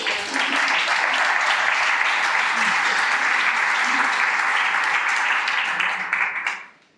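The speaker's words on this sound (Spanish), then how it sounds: "muchas gracias a todos, sobre todo por este inmerecido aplauso de nuestro lado" An audience at a cultural homage event held by the Círculo Cultural de Colmenar Viejo claps in a dense, sustained round of applause that stays loud and even for about six seconds, then quickly fades out.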